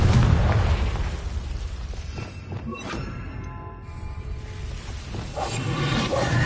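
A fiery Confringo spell blast from the Hogwarts Legacy video game: a loud, dense explosive burst with rumbling low end that swells at the start and again near the end.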